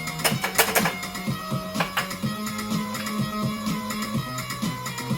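A floppy disk drive loads: mechanical clicking and rhythmic buzzing steps repeat steadily, a close, busy chattering of a drive head seeking, with no talking.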